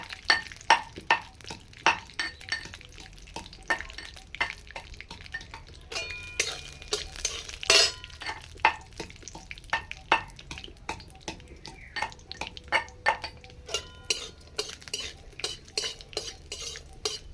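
Peanuts are fried and stirred in a kadai, with a metal spoon scraping and clinking against the pan in quick, irregular strokes over a soft background sizzle, close and fairly quiet, with no talk.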